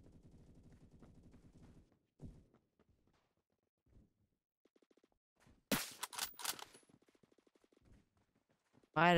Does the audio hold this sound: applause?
no